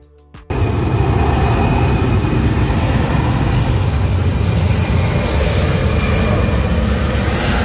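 Loud, steady roar of an airplane arriving and landing in Haiti; the broadband engine noise starts abruptly after half a second and holds at a constant level to the end, with no talk.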